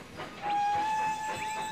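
A train departing in Railroad Tycoon 3 gives a single sustained whistle tone that starts shortly in and holds to the end, over a soft rolling rumble, with nobody speaking.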